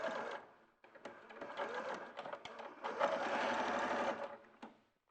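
A sewing machine stitching the facing and lining of a garment runs in two bursts, a steady fast mechanical whirr close by, with brief pauses between runs and almost no talk.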